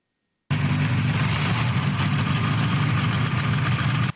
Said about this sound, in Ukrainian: Останній вихід на воду глісерів у Тивовій області на Черкащині